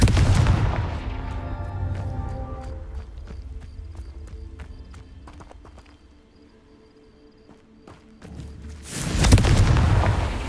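A Confringo fire spell blasts in the video game Hogwarts Legacy, with a loud burst at the start, a quieter stretch of game ambience, then a second heavy boom near the end.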